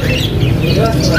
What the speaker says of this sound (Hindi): ये है तोते, आप लोग देख लें